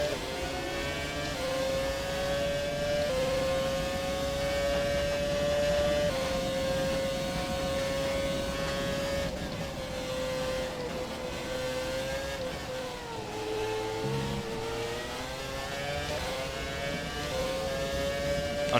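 A Ferrari F2004 Formula 1 car in the F1 2017 racing game revs hard, its high engine whine climbing and dropping through gear changes. The sound is loud and continuous, with a brief dip when it brakes for a hairpin.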